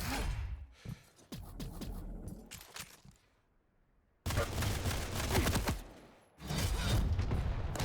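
Heavy machine gun fire in Quake Champions comes in loud rapid bursts, a stuttering opening stretch, a short quiet gap, then a dense sustained volley and a final flurry amid clanks and impacts.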